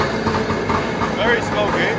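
A Superjet jet ski engine runs steadily after a push-button start, a continuous smoky two-stroke idle that sits loud and close, with voices talking over it.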